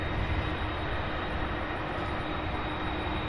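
Engines of an MD-11 jet moving at Louisville airport give a steady, broad rumbling roar, fairly faint and unchanging over a few seconds.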